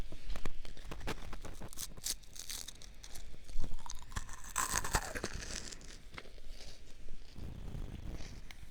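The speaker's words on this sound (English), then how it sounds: "I'm munching on cookies. It's very crunchy." Chips Ahoy cookies crunched close to a microphone, irregular crisp bites and chewing crackles with soft crinkling between them, intimate and fairly quiet.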